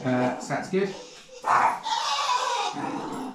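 An old dog gives a brief, raspy, cranky bark and whimper up close, followed by someone talking.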